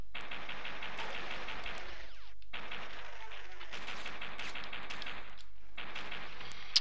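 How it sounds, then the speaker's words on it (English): Pistol fire in the Nintendo 64 game Duke Nukem 64, dense rapid shots in long bursts broken by brief pauses, loud and continuous over the game's background. "I will use my pistol to destroy these buddies."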